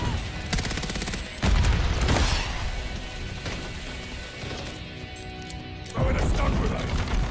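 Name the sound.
stun grenade explosion and gunfire in a video game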